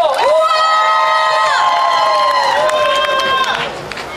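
A crowd at the opening ceremony of the 10th Icheon Ginseng Festival cheers and whoops loudly, one long rising-and-held shout ringing out for about three seconds before tapering off.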